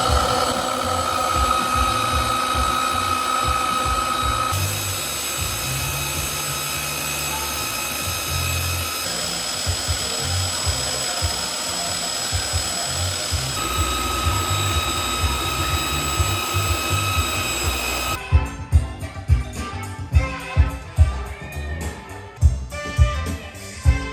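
A power tool polishes welds on parts for an R32 GT-R restoration, a steady high whine with tonal bands running continuously, then sharper clattering, irregular contact sounds in the final seconds.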